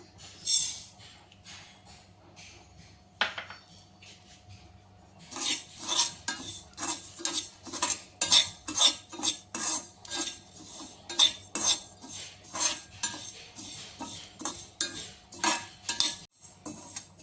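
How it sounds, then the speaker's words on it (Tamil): Moong dal dry roasting in a pan for paruppu podi, with steady rapid scraping and stirring clinks of a utensil against the metal pan, quieter at first then busier and continuous throughout. "இப்போ பாசி பருப்பு போட்டுடலாம்"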